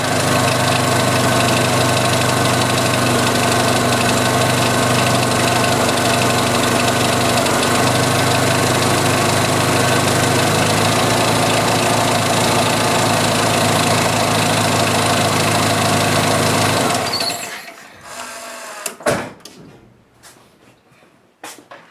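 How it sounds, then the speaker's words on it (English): A 1986 Jeep Cherokee engine with an exhaust leak idles loud and steady with a rough, rattling drone for a long stretch, then cuts off abruptly, leaving a few faint clanks and knocks. "this thing has a pretty good exhaust leak"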